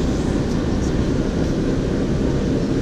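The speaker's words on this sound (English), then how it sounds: "there's an airplane flying low out here" A low-flying airplane passes overhead outdoors near a screen-printing shop, a steady broad engine roar that stays loud and constant throughout with no talk.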